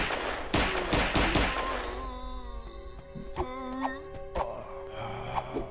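A quick volley of loud gunshots cracks out in rapid succession in a first-person Resident Evil 2 mod of Half-Life 2, then scattered single shots follow amid ringing game sounds.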